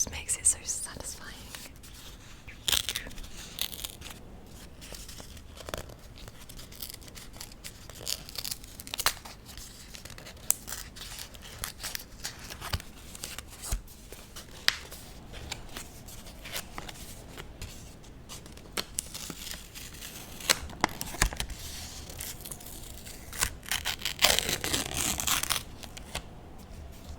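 Brown paper wrapping being torn and crinkled off a book, with soft close-up rips and rustles in bursts, a louder stretch of tearing near the end, and quiet whispered talk throughout.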